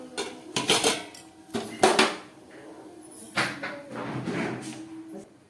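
Metal pots and lids clank and clatter in a home kitchen after the gas is turned off, several sharp knocks and scrapes in uneven bursts, close and moderately loud.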